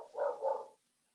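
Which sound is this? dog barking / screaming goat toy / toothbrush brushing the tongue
dog barking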